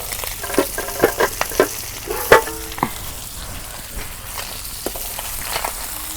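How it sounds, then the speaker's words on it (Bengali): Pomfret fish frying in a pan sizzle steadily up close, with a cluster of sharp spatula taps and scrapes early on, then quieter crackling. "অনেক সুন্দর করে মাছগুলো ভাজা নিলাম।"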